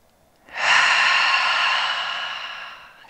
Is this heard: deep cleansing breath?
yes